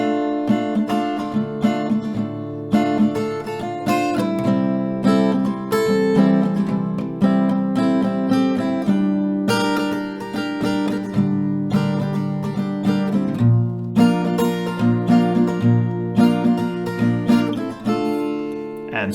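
Acoustic guitar strummed steadily through a chord progression for an Afrobeats song, close and clear with rhythmic accented strokes and no voice.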